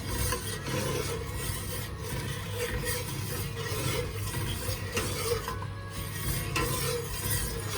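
A spoon scrapes and stirs sugar and agar-agar in a pot, giving a continuous, fairly quiet rasping and rubbing sound with a faint sizzle underneath.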